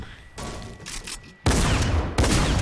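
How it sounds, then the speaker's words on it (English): Gunshots from a Fortnite match blasting through a built wall: two loud, sharp broadband bursts close together, the second following under a second after the first, over a quieter stretch of game noise. "They're gonna take a shot, which will break the wall."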